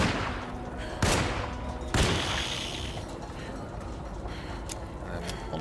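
Gunfire in the horror game Alone in the Dark: two loud, sharp shots about a second apart stand out over a busy background of softer crackling game sounds.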